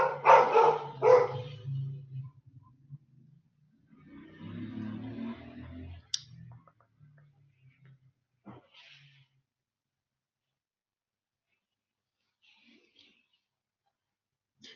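A dog barks twice near the start, loud and close, and then the room goes mostly quiet apart from a few faint clicks and scattered small sounds.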